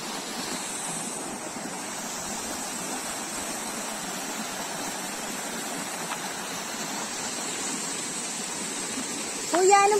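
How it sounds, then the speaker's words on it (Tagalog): Buruwisan Falls in Siniloan, Laguna gives a constant, dense rushing roar of falling water that stays level throughout, with a brief voice rising near the end. "Pababa na po kami sa Borawisan Falls"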